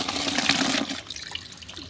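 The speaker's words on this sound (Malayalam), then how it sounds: "കുറച്ച് വെള്ളമൊഴിച്ച്" Water is poured onto a small heap of fresh green cow dung to mix a slurry fertiliser for an ivy gourd plant, a close, splashing pour lasting about a second before trailing off into softer trickles.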